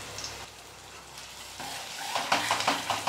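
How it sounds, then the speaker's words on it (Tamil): Chili masala paste sautés in oil over a low flame, giving a soft, steady sizzle that grows busier toward the end, with light stirring scrapes and no talk. "லோ ஃப்ளேம் வச்சு தான் நம்ம வதக்கின்னு இருக்கோம்"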